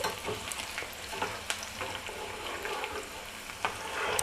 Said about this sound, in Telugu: ఈ పచ్చిమిరపకాయలు కొంచెం తెల్లగా ఇట్లా వేగిపోవాలి నీరు లేకుండా